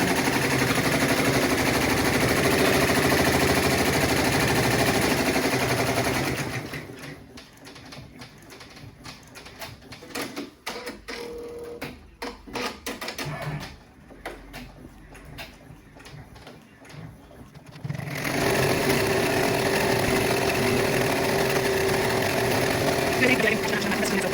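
An in-the-hoop embroidery machine stitches a FIFA World Cup soccer ball coaster, its needle tapping in a fast, steady mechanical patter that turns sparser and quieter midway before the busier stitching returns, with a voice talking over parts of it.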